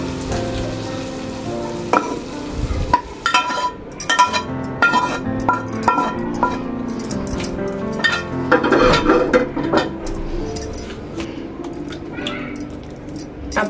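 Food is poured into a bowl with a run of metallic clinks and clatters of dishes and utensils, ending in a bright scraping jangle near the close.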